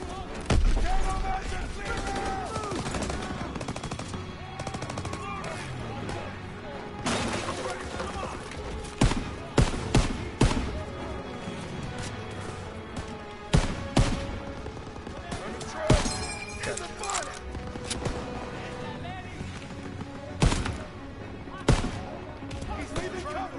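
Rapid machine gun bursts and scattered gunshots in the Call of Duty WWII video game, loud sharp cracks and thuds repeating irregularly across a busy battlefield din, with shouted voices mixed in.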